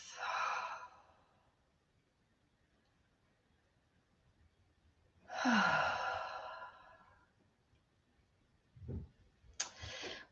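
Slow, deep breaths during a yoga session: a long exhale near the start, another drawn-out breath in the middle, then a couple of shorter, sharper breaths near the end, each separated by near-silence.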